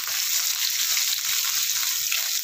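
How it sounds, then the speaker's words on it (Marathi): Crushed garlic cloves and mustard seeds crackle in hot oil while a tempering is cooked for a mixed vegetable pickle, making a continuous loud sizzle and hiss that stays even throughout. "अगदी छान खमंगाची फोडणी आपण इथे करून घ्यायची"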